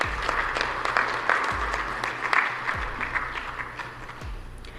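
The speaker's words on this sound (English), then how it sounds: "May I please request that we have 2 rounds of applause for our co-chairpersons for those statements." Audience applause at the opening ceremony of an EAC/SADC summit, a moderate round of clapping from a hall of delegates that swells in waves and gradually tapers off.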